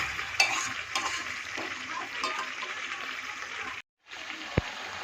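Chicken and potatoes frying in hot oil while being stirred, a steady close sizzle with scraping stir sounds, a brief drop to near silence near the end, then a sharp clink.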